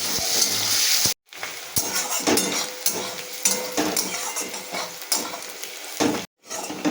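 Sliced onions sizzle in hot oil with cumin seeds and a bay leaf, a steady close frying hiss broken by spoon scrapes and light pan clinks, with two brief silent gaps.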